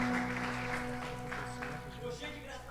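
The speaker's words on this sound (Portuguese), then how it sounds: "Aplauda ao Senhor no seu lugar." Church congregation applauding during a worship service, a steady wash of clapping that fills the room and slowly thins, with voices murmuring underneath.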